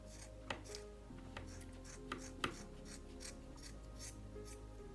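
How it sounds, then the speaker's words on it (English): Scissors snip excess yarn while trimming the tail of a handmade yarn bird craft, a handful of crisp, close cuts spaced irregularly over a quiet background. "To create the bird's tail with your pair of scissors, trim the excess yarn until everything looks nice and even."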